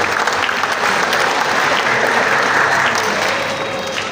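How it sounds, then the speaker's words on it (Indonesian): Loud, sustained applause from a large crowd at a school arts performance, dense and steady throughout. "Mari kita tepuk tangan untuk guru-guru Egypt."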